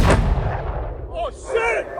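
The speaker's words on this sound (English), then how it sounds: "rocket attack, rocket attack, rocket attack." Rocket attack explosions boom and rumble in a desert city, a heavy close blast decaying into a long low roar, followed by faint whistling tones.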